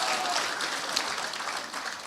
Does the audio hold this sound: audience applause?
yes